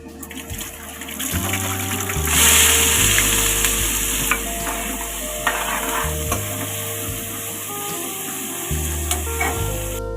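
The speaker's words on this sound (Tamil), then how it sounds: "இப்போ மஸ்டர்ட் சீட் நல்லா பொரிஞ்சு வந்துட்ட பிறகு உள்ளி எடுத்து போடுறோம்" Garlic dropped into hot oil where mustard seeds have already popped, frying with a steady busy sizzle and crackle, some stirring scrapes and bursts of spluttering, no talking.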